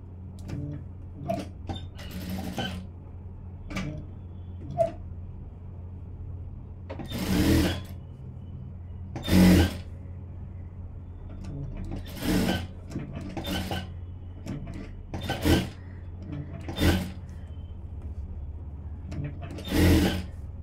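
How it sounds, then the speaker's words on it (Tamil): A sewing machine stitching a blouse runs in short, separate bursts of whirring stitches, spaced out over a steady low hum with quiet handling noises in between. "இப்போ இன்னொரு தையலும் போட்டுக்கலாம்"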